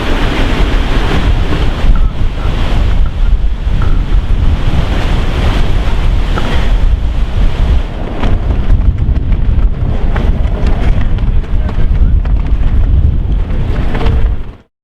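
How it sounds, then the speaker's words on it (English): Strong outdoor wind buffets the microphone continuously for about fifteen seconds, a loud broadband roar with gusty rumble, cutting off abruptly at the end. "The wind at our back."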